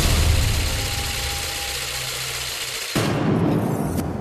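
The Mac-Quan 1 machine spins at about 1,000 RPM with a steady mechanical hum and rumble, then the tone abruptly shifts near the end.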